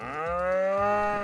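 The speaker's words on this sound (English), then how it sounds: "exhibiting cattle" A single cow lets out a long, loud mooing call at the Royal Norfolk Show 2024 agricultural show. The bellow is close and sustained, swelling and holding for over a second with no voices over it.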